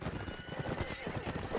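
Horses in a video game battle gallop with clip-clopping hooves and a whinny, a dense, brief burst of hoofbeats and combat noise under the game's busy soundscape.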